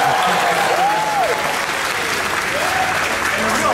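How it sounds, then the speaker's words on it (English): Audience applause at a Star Wars panel, a steady, dense wash of clapping from a large crowd that runs the whole time, with a couple of faint gliding tones and brief voices underneath. "I'm so excited I'm clapping."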